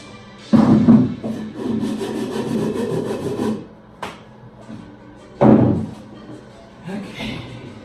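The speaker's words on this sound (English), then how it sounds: "I just wonder what a little bit of sanding might do" Rough scraping strokes of sandpaper on wood, a few longer passes with pauses between, close and fairly loud.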